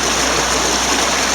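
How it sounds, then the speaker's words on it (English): Water spews through a gap in the eroded boards of a diversion dam on the Weiser River, a steady, loud, close rushing hiss with no pauses. "you can see where that water spewing through, there's a gap in there"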